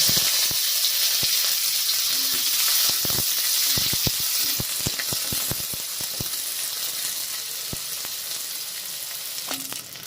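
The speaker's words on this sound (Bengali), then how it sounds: "তেজপাতা, শুকনো লঙ্কা দিয়ে দেবো, গোটা জিরে সব একসাথে ফোড়নে দিয়ে দেবো পেঁয়াজ কুচি" Whole garam masala, bay leaf, dried red chilli, cumin seeds and chopped onion sizzle together in hot oil, a loud steady frying hiss broken by sharp spattering pops and occasional stirring knocks.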